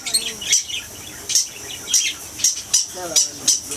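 Several birds in an aviary chirping in short, bright bursts that repeat at a brisk, uneven rhythm, fairly close and clear, with no talking.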